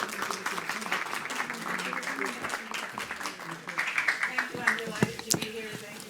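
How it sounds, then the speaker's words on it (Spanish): Audience applause welcoming a nutrition speaker at a Spanish-language panel on cereals in the diet, a steady wash of clapping lasting several seconds, with some voices and crowd murmur mixed in. "Le he pedido un gran aplauso para ella, por favor."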